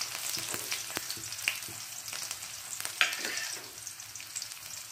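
Torn dried red chillies and chopped shallots sizzle in hot oil in a pan while chundal is being made, with a steady, close frying crackle and occasional sharp pops and stirring clicks.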